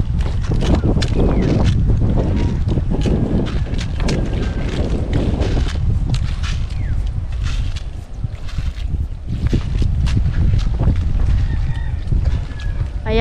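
Strong wind blowing outdoors across a rice paddy in the countryside, a steady loud roar and buffeting against the microphone that gusts and eases throughout, with no clear talking.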